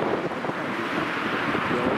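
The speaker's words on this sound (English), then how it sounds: "It's a bit blustery." Blustery wind buffets the microphone outdoors as a continuous loud rumble and rush throughout.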